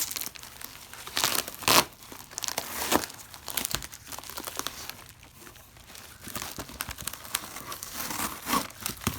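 Newspaper packing crumpled and rustled while a parcel is unpacked, with close, irregular bursts of crinkling and tearing paper, some louder handfuls among quieter rustles, no talking.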